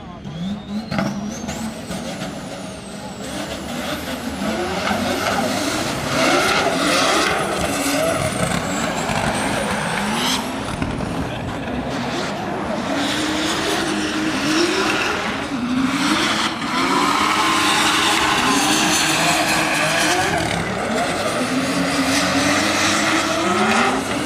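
Drift car engine roaring at a Chicago Drift Top 32 practice session, loud and continuous with rising and falling revs and tire noise throughout, joined by faint distant talk.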